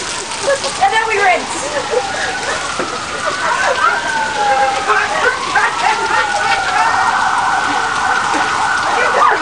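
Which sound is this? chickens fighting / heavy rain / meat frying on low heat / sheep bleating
heavy rain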